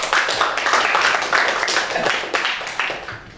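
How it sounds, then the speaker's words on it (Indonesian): A classroom of students claps for a classmate: a dense, fairly loud burst of many hands that swells, then thins into scattered claps toward the end. "tepuk tangan untuk Ferry."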